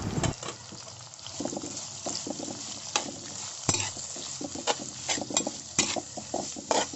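Small shallots sautéing in coconut oil in a pan, giving a steady close sizzle broken by frequent scraping stir strokes and light metal clinks of a utensil against the pan, with no talking.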